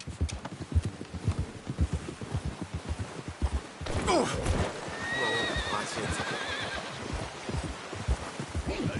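A horse's hooves clip-clop steadily in the video game Red Dead Redemption 2, then a loud whinny cuts through and trails off before the hoofbeats continue.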